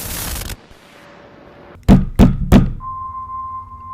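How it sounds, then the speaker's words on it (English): Three heavy, loud thuds strike a prison cell wall in quick, evenly spaced succession after a brief quiet hum, followed by a steady electronic tone. "Mi hermano bangs on the cell wall."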